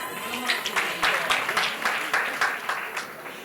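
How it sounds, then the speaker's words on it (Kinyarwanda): Clapping from a comedy show audience, a steady burst of hand claps with crowd noise lasting a few seconds, fairly close and even in loudness. "Andi mashyi nanone."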